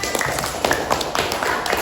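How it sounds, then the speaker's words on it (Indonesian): A small group of students in a classroom clap their hands, a short, uneven run of claps close by with some talking mixed in. "Beri tepuk tangan"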